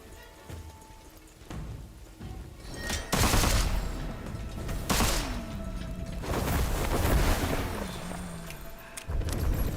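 Bursts of enemy gunfire in the dark fantasy shooter Witchfire, loud, repeated volleys and thuds mixed with booming impacts and game effects throughout, with no talking.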